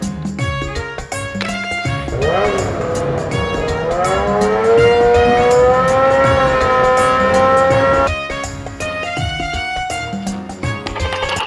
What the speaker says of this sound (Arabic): موتور سايكل دراجة نارية.